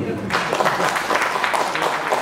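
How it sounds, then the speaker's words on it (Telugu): A crowd applauding at a film-industry gathering, steady rippling clapping at moderate volume with no pauses over a couple of seconds. "చప్పట్లు కొట్టున్నాను"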